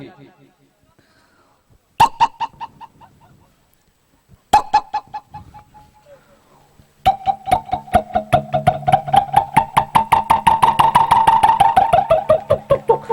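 A voice imitates an old engine with rhythmic chugging pulses, starting in short bursts then settling into a fast, steady putter.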